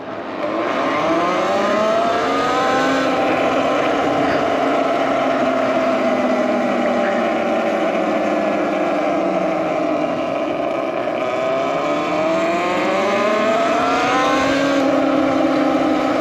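A motorcycle engine drones loud and close while the bike is ridden, its pitch rising and falling smoothly with throttle changes over a steady, continuous roar, with no talking.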